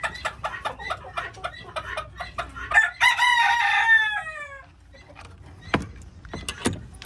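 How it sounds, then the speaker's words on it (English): Chickens in a homestead chicken house cluck in quick, busy bursts, then a rooster lets out a loud, close crow, with scattered clucks and a few sharp calls afterward. "And in the chicken house, we got some chickens and a couple of chicks up in the top cage."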